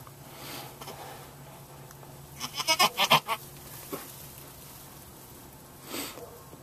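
A goat in labour gives a quick run of loud, strained bleats in the middle, then one shorter cry near the end, with quiet rustling and faint background noise between them.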